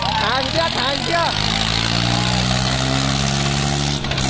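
Eicher 485 and Swaraj 855 tractor engines labor loudly in a tug-of-war contest, a steady heavy diesel drone throughout, overlaid by a shouting crowd and commentator talking over the noise.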